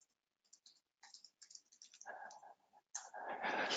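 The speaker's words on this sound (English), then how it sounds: "I'm sorry, just typing" Typing on a computer keyboard during an online webinar: sparse, soft key clicks at first, then a quicker, denser run of keystrokes near the microphone, with no talking.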